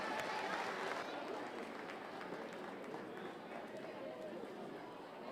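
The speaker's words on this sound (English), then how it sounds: "Give them all a big round of applause" A crowd applauds showmanship winners at a youth fair market hog show, a steady wash of clapping heard from some distance, with a voice over a public address system talking through it.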